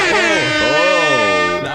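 A loud, close air horn blasts once for well over a second, a strong brassy tone that bends in pitch before cutting off.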